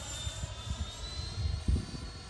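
A Freewing F-5 80mm electric ducted-fan RC jet flies past outdoors, a continuous rushing whine with a broad airy roar that swells slightly toward the end.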